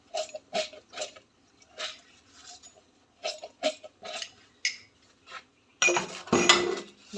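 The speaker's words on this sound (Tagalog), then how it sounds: "So, maghuhugas tayo ng pinggan." Plates and cutlery clink during dishwashing in a home kitchen using detergent powder. Sharp, scattered taps and clatters come close by, ending in a louder burst of scraping and rattling.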